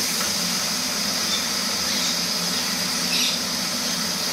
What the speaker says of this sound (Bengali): মশলাটা এখন ভালো করে কষবো।